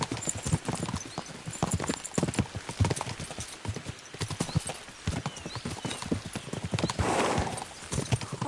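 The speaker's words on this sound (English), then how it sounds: "We should spur the horses on!" Horses galloping in the medieval video game Kingdom Come: Deliverance II, a rapid, continuous clatter of hooves with an occasional whinny, close and loud throughout.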